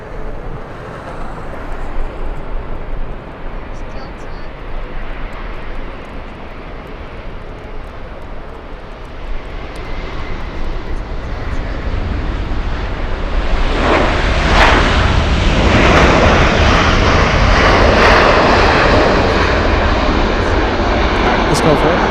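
Airliners landing and taxiing at Los Angeles LAX airport, a steady broadband jet engine roar that swells louder partway through as a plane passes near, with faint talk underneath.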